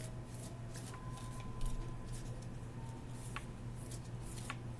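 Soft riffling and papery flutters of a tarot deck being shuffled, close by and quiet, in repeated short bursts over a faint steady hum.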